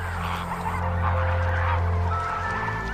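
Water birds calling at Sambhar salt lake, a wetland with flamingos, pelicans, storks and herons, give a steady, dense honking chorus over a low hum, continuous and moderately loud throughout.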